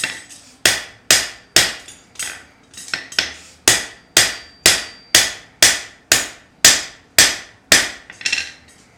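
A hammer strikes wire to flatten it, about fifteen sharp, ringing metallic blows at a steady, fairly quick pace, close up with no talking.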